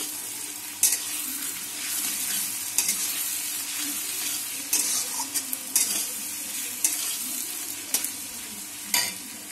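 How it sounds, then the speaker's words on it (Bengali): Garlic paste frying for a Bengali mutton curry, a steady close sizzle under repeated stirring, with a spatula scraping and tapping the pan at irregular intervals and no voices. "রসুনটা একটু ভাজা ভাজা করে নেব"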